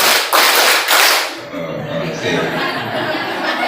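A group of teachers at a school workshop clap a patterned ice-breaker rhythm, loud bursts of clapping at first that fade into murmuring chatter and light laughter.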